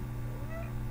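A house cat meows once, close and clear, in a brief call over a steady low indoor hum.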